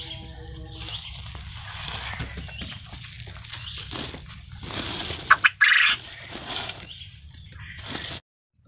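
Quails calling in a small holding pen just before slaughter, a busy chatter of squeaky calls and rustling, with a few sharp loud cries near the end before sudden silence.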